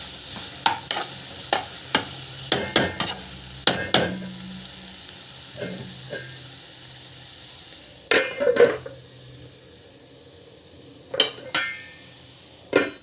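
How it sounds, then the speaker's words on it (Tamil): Ingredients for mint chutney sautéing in a pan, a soft sizzle broken by sharp clinks and scrapes of a spoon against the pan in irregular bursts, with quieter stretches between, no talk. "கொஞ்ச நேரம் வந்து நல்லா வதங்கட்டும்"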